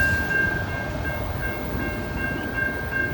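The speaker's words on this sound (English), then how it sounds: "And they just cleared the 5-track railroad crossing here in Dalton." A train rumbles past a five-track railroad crossing in Dalton, Georgia, a steady, loud low roar of rolling rail cars with a faint sustained tone above it, continuous throughout.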